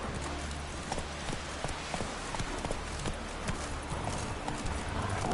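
Roach, a horse in a video game, gallops in a brisk, regular clip-clop of hooves, loud and close over ambient game noise throughout.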